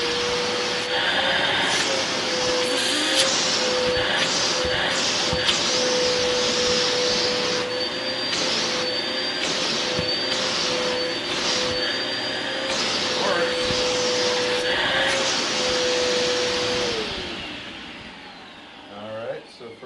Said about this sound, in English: I'll throw some stuff on the carpet real quick and we'll vacuum that up